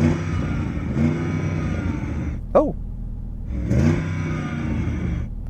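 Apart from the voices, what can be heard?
car engine revving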